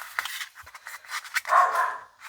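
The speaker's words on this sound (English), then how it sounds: "Dog's kicking off." A dog barking indoors in a papercraft workspace, a rapid string of close, loud barks ending in a longer yelping bark, with no talk over it.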